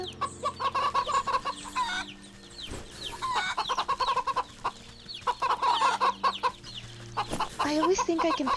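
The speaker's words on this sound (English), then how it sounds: "Was there always a rooster here?" Rooster and hens clucking on a farm in the video game Wytchwood, with repeated bursts of close, busy clucking and some chirpy bird calls, broken by brief pauses.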